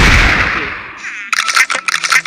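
Shotgun firing in a video game: a loud fading blast at the start, then a burst of several sharp cracking shots in quick irregular succession, close and punchy.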